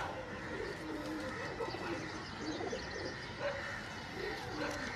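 Pigeons kept at a bird dealer's shop coo softly and repeatedly against a low, busy background.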